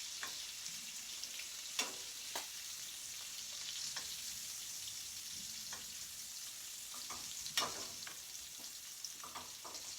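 Scallops searing in butter in a hot pan give a faint, steady sizzle with scattered light crackles and a few soft taps of a utensil, no talking.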